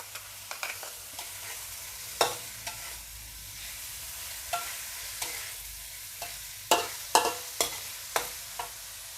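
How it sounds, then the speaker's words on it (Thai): Glass noodles being stir-fried in a pan with pork meatballs and Thai pork sausage: a soft sizzle beneath irregular, sharp clacks of a spatula scraping and tossing, close up and with no talk. "แล้วก็ใส่ลูกชิ้นนะคะ ลูกชิ้นหมูค่ะแล้วก็หมูยอค่ะ"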